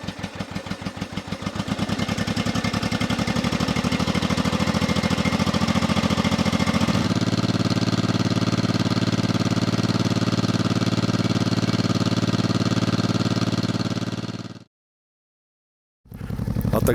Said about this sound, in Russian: Отогрел немного двигатель.